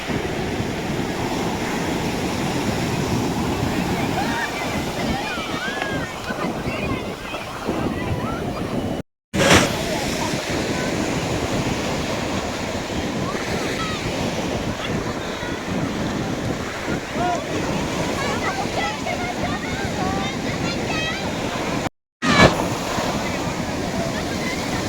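On a sunny but windy seashore, broad surf wash rolls continuously with wind buffeting the microphone, loud and close, interrupted by two brief cuts.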